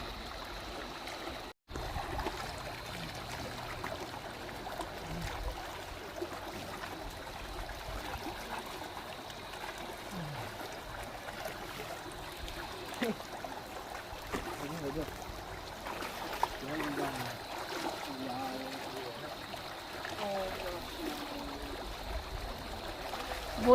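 A mountain river flows steadily near an old, years-old bridge in hilly Uttarakhand, a continuous rushing wash of water with people talking faintly over it.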